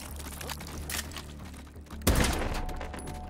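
Gun blasts in modded Take & Hold video game, with a few muffled shots early on, then one loud, close blast that rings out and fades, with no voices.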